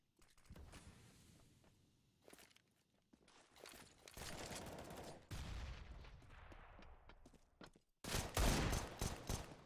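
Pistol gunfire crackles in a Counter-Strike: Global Offensive match, with bursts of sharp shots and clicks, quiet gaps in between, and a louder cluster of rapid shots near the end.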